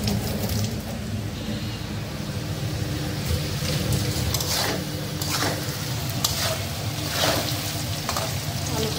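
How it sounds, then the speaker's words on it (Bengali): Potato pieces fry in hot oil for a potato and okra curry, giving a continuous close sizzle broken by occasional stirring scrapes, with no speech. "আলুটা লাল করে ভাজবো"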